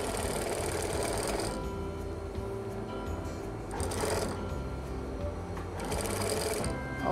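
A sewing machine stitches an elastic waistband onto a tiered skirt fabric, running as a steady close whirring hum throughout with slight swells in intensity.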